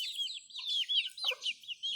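Young Brahma chickens cluck and chirp continuously up close, a busy run of short high calls with no voices over them.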